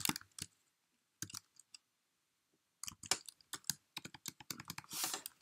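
Computer keyboard typing while VBA code is written in Excel: close, crisp key clicks in scattered bursts broken by pauses, then a denser flurry of keystrokes near the end, with no talking.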